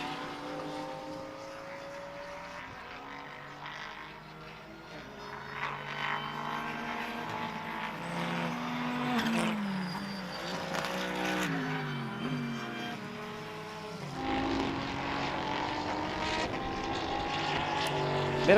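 GT endurance race cars roar around Slovakia Ring, engines rising and falling through gear changes as cars pass, forming a continuous loud racing drone with no clear talk.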